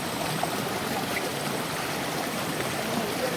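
A river flows among high hills, making a continuous broadband rushing and trickling sound at moderate loudness with no clear voices over it.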